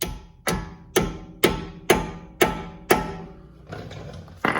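Front brake pads on a 2020 Toyota Supra being tapped into place with a blunt object: seven evenly spaced sharp knocks about half a second apart, close and crisp, followed by a softer rustle and one last knock.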